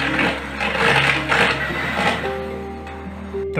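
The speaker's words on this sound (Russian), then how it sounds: "Взбиваю теперь все в пышную пену миксером." An electric hand mixer whips eggs and sugar into a fluffy foam for a Soviet-style cake, giving a steady, loud motor whir with a shifting beater rattle throughout.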